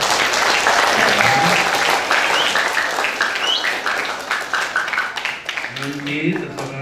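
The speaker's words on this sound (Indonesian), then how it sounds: "Tepuk tangan untuk wali kelas." A crowd claps for the class teachers at a school event, with loud, dense applause at first that thins out and fades as a voice starts speaking over it.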